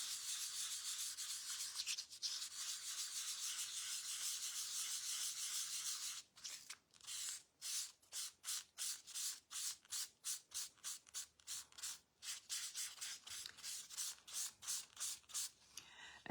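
Colour is rubbed into vellum paper in a home card-making class. A close, hissy scrubbing rasps steadily, then breaks into quick rhythmic back-and-forth strokes that rise and fall. No voices.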